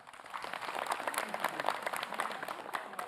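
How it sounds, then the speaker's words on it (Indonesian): Audience at an Islamic religious lecture applauding a preacher, a soft, steady patter of many hands clapping, fairly distant and quiet, with no talk over it. "Tepuk tangan buat Ustadz Ahmad Khan"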